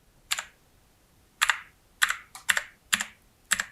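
Clicky typing on an SPC Gear GK530 Tournament mechanical keyboard with Kailh Blue switches: separate bursts of crisp, loud keystrokes close up, spaced by short pauses, with no voices.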